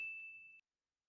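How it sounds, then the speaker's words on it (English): A bell ding sound effect: a single clear high ring that holds steadily for about half a second and then stops abruptly, alone. "and then ding the bell."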